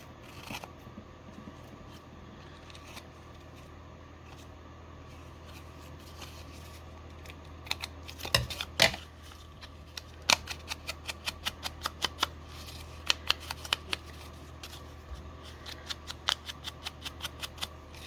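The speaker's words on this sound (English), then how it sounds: "now I'm going to go ahead and trim a little bit here" Scissors trim paper snippet strips for a craft card, first a quiet stretch and then a run of crisp, irregular snips, close and moderately loud with no talking.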